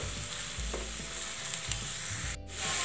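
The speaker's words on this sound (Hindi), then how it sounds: "अब हम सारी सब्जियों को मिक्स कर लेंगे।" Mixed vegetables for pav bhaji are stirred in a hot pan, a close sizzle under repeated scraping and thudding strokes of a spoon, with no voices.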